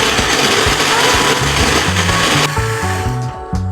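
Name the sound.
blender blending coconut with water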